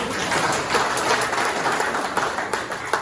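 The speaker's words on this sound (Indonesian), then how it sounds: "Tepuk tangan untuk Bang Berto." Applause from the audience at an installation ceremony for a provincial organization's board, a dense, steady wash of many hands clapping at close range that holds evenly throughout with no voices over it.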